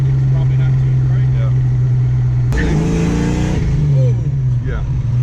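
A 1988 Ford Mustang SSP Foxbody with a straight, loud exhaust idles with a deep, steady rumble, then snaps into one sharp, roaring rev about halfway through before settling back to a loud idle.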